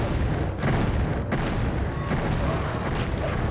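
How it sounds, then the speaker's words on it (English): Revenant missiles fired by enemies in Heretic Invades Doom hit with a few dull booms and sharp blasts over a steady rumbling backdrop of game noise, fairly loud and close. "they fire their revenant missiles at you"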